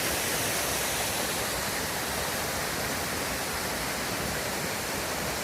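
Small waterfalls spill out of rocks along the Ramsey Cascades mountain trail in the Great Smoky Mountains, making a steady, broad rushing hiss of water that stays even and unbroken throughout, with no voices.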